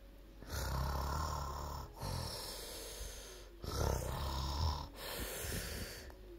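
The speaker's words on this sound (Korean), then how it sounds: "나무 그늘에는 부자가 코를 골며 자고 있었죠" Slow, heavy snoring breaths from a man asleep, repeating several times, each a low rumbling rasp followed by quieter exhales, close by with no talking.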